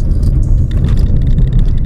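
A Maruti Brezza car drifting at speed: a loud, continuous low engine and road roar with rough, rumbling texture throughout, close and steady with no pauses and no voices.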